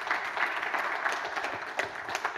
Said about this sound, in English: It was a very sarcastic clap